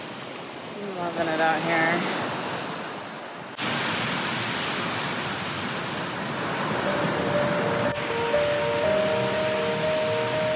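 Beach waves wash in as a broad steady surf hiss that swells slightly, with someone talking briefly over it near the start and faint tonal hum later.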